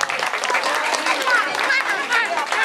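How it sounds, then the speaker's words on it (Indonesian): Audience applause at a live Balinese comedy show, dense steady clapping with crowd noise close by, filling the whole stretch alongside voices and cheering. "tepuk tangan"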